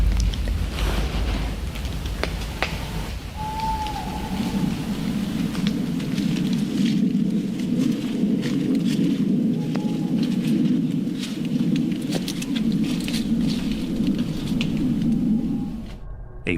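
Steady rain patters throughout, with a low rumbling band like distant thunder and occasional faint bird calls in the background.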